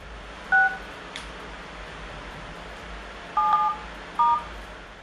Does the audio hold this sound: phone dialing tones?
yes